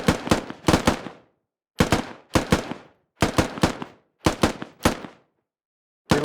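Gunfire in squad suppression and covering fire training, loud close bursts of two to four rapid shots separated by short silences, each burst trailing off in a brief echo.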